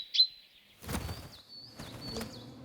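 A great tit gives short, high chirps and thin whistled calls, fairly faint, in a quiet woodland setting with a few soft rustling sounds between them.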